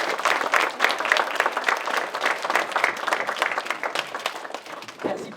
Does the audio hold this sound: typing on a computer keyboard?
no